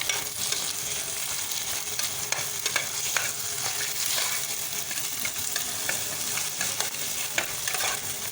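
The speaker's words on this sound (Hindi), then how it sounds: "अब हमने इसमें जो एग वो शामिल कर दिया है और ये फ्राई हो रहा है" Egg frying with garlic and green chili in a pan, a continuous close, busy sizzle with frequent crackles and pops and light stirring scrapes throughout, no talking.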